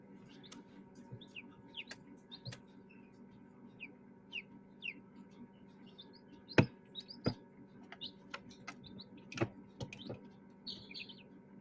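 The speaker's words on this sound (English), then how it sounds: "The bird noises in the background, Aaron, are my other set of chicks in my office. They're about 10 days old. They're in a brooder" Chicks about ten days old chirp in an indoor brooder in an office. Their high peeps are scattered and intermittent over a low steady hum, faint and somewhat distant, with occasional sharp clicks and no talking.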